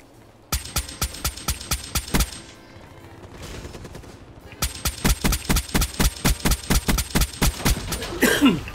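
Rapid video-game gunfire aimed at a sentry gun, sharp evenly spaced shots in two long bursts separated by a short lull, close and loud, with a faint voice in the background.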